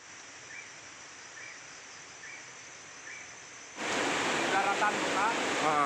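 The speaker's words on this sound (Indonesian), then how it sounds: "akibat dihantam arus deras sungai Aikmais" The Aek Mais river rushes in flood, a steady broadband roar of fast current that swells abruptly louder and harsher partway through, constant and close with no pauses.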